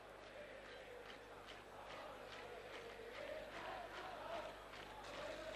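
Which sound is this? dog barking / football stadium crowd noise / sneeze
football stadium crowd noise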